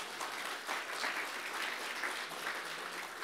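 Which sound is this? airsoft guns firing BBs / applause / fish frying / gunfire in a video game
applause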